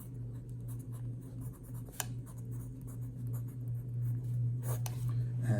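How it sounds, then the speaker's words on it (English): Pen scratching on paper held on a clipboard as binary-to-decimal examples are written out, soft and close with a steady low hum underneath. "So let me write example."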